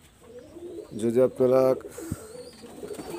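A baby Kamagar pigeon coos in a few short, throaty bursts close to the listener while someone talks over and around it.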